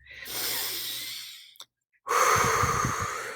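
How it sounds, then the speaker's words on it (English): A person takes one deep breath: a long, airy inhale through the nose, a brief held pause, then a fuller, louder exhale out through the mouth, close and alone. "take a moment to take a really deep breath"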